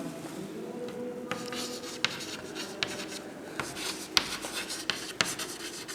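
A pen scratches steadily across paper while a Class 6 maths problem is written out, with soft continuous strokes and a few sharper taps, close and clear, no voices.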